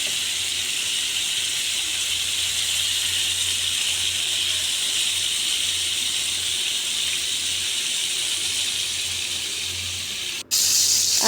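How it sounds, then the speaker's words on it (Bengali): Shrimp frying in oil in a pan for a coconut shrimp dish, giving a steady, even hiss close by that holds throughout, then cuts off briefly near the end before resuming. "চিংড়ি মাছগুলোকে উল্টে পাল্টে ভালো করে ভেজে নেব"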